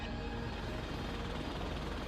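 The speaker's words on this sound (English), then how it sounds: "The MH-6 Littlebird returns, but with a vengeance." An MH-6 Little Bird helicopter on a special forces hostage rescue operation, a steady dense rotor and engine drone at moderate distance, continuous and unbroken throughout.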